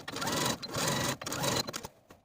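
A sewing machine runs in short whirring bursts, stitching close to a seam while understitching a pants pocket, loud and near, with brief stops between runs and no talking.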